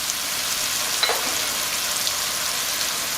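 Lemon pepper infused oil hitting a hot pan sizzles in a steady, close, even hiss that holds throughout, with no one talking.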